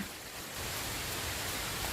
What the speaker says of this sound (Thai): ฝนลงแล้วนะคะขาวๆนี่คือฝนนะคะ ตกแล้วจ้า